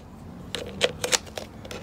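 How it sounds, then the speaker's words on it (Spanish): Scissors snip through soft reused plastic from a cup during a DIY plastic shovel project, giving several quick, crisp cuts in a row at close range with no talking. "este plástico, les vuelvo a repetir, es más suave para cortar con las tijeras"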